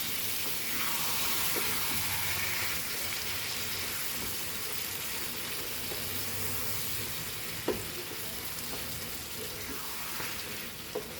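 Mutton frying in a pan for a traditional Goan xacuti curry, a steady broadband sizzle running throughout with a few faint clinks of stirring, close and even in level, no talking.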